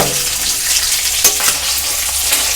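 A fish head frying in hot oil gives a loud, dense, continuous sizzle close by, with a couple of brief spatter bursts and no talking.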